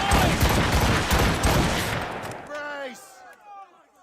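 Ship cannons fire in a dense, booming barrage during a naval battle in Assassin's Creed Rogue, loud and overlapping at first, then fading as shouting voices come through.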